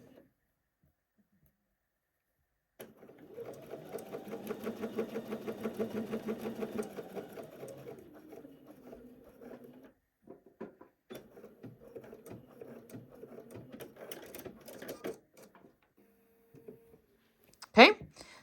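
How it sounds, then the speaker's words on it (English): A sewing machine stitches along a chalk line while making the welt pocket on a pair of trousers, running in a steady loud burst, then in shorter start-stop runs with handling noise between them, finishing with a sharp clack. "I'm just going to sew right along that chalk line until we get to the other crosshair."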